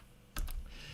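Two quick keystrokes on a computer keyboard, entering a diameter value while working in design software, crisp and close against a quiet room hum.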